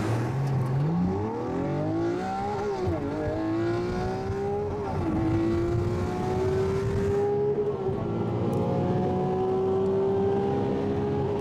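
A Lamborghini pulls away hard from a standstill, its engine note climbing steeply through a quick upshift, then holding a loud sustained high-revving roar close by.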